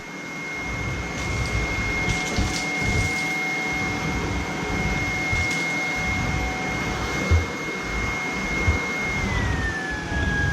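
A Shark Vertex cordless vacuum runs in turbo mode with a steady high-pitched motor whine over a rumbling brush roll, and its pitch drops slightly near the end.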